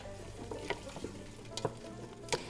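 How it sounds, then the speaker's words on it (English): Chopped yellow onions fry in a pot with about half a cup of oil, a soft continuous sizzle under a low hum, punctuated by a few sharp clicks as a spoon stirs them. "to our pot and all of the chopped onion from earlier. Just give that a quick little stir."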